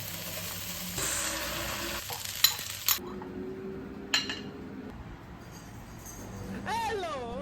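Soft sizzling of nasi goreng (fried rice) frying in a pan, with a few clinks of a utensil against metal and faint voices in the background.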